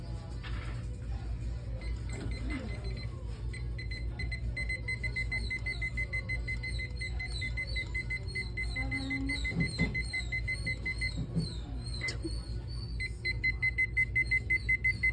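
A timer alarm beeps in repeating bursts of high electronic tones, steady and fairly loud over a constant low background hum, with a brief pause before the beeping resumes near the end.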